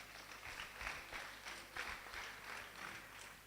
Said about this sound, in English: Now you can give the speakers a bigger round of applause